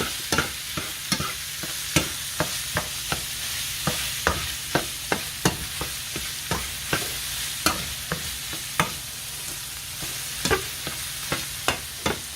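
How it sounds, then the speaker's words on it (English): Ground beef and onions cooking in a pan, with a steady frying sizzle and a spatula scraping and stirring in regular, close strokes throughout, no voices. "Gonna put our ground beef all in there. And we're gonna get this to mix down. We're gonna mix our onions"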